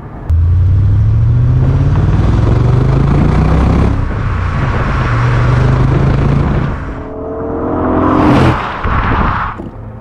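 A 2001 BMW Z8 roadster with a 400 hp V8 pulls away close and loud, its engine rising through gears, then easing off and swelling again near the end with no talk.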